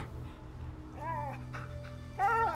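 A dog whimpers in the video game A Plague Tale: Innocence, thin rising whines breaking through a low droning game ambience, the last one louder and closer.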